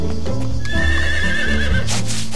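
A horse in the Doraemon Story of Seasons farming game gives a loud, close whinny while being brushed, with hoof clip-clops and soft game music beneath.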